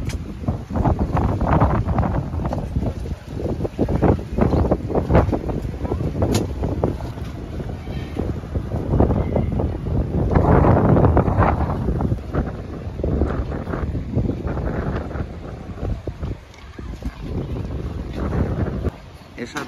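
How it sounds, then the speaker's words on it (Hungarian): Ride on a boat to Koh Larn island in Thailand, with a rumbling engine and heavy buffeting wind noise across the microphone throughout, while someone talks over it. "Hát itt vagyunk ezen a hajón"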